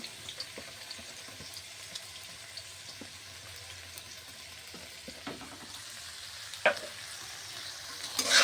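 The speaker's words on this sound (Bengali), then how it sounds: "এবার আমি আলুগুলো দিয়ে দেবো তেলের মধ্যে আর গাজর কুচিগুলো দিয়ে দেবো" Potatoes and chopped carrots frying in oil, a quiet steady sizzle with occasional soft stirring taps, then a sharper clatter near the end, close by and without speech.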